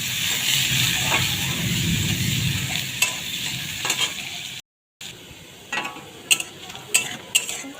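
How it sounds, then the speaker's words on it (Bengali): Onions sizzle and fry in hot oil with nigella seeds, a steady crackling bed broken by a few sharp spoon clacks against the pan toward the end. "পেঁয়াজগুলোকে ভালো করে ভেজে নিতে হবে।"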